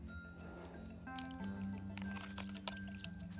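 Soaked fishing pellet bait is tipped into another container, giving close wet squishing, dripping and trickling sounds with soft clicks over a steady low hum.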